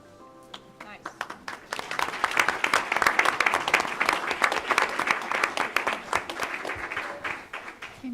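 An audience at a school board meeting bursts into sustained applause for the Students of the Month, many hands clapping densely for several seconds before it thins out.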